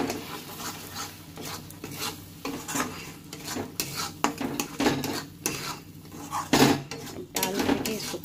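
Capsicum with MDH masala roasting in a pan, a spoon scraping and clinking against the metal in uneven strokes over a faint sizzle, close by with no speech.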